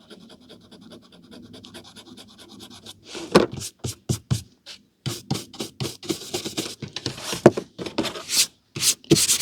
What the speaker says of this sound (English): Just using the back of a scalpel here to scrape this off.